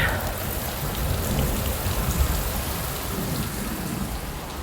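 Rain mixed with hail falling hard during a thunderstorm in a Ukrainian village, a constant dense pattering wash with low thunder rumble underneath, close and steady, no voices.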